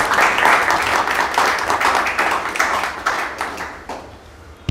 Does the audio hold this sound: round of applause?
yes